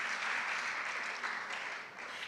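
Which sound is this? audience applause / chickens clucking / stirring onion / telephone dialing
audience applause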